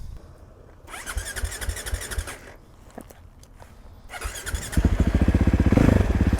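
A starter motor whirs in short bursts, then a 2020 Sherco 500 SM motorcycle engine catches and settles into a steady, rapid chugging idle nearby.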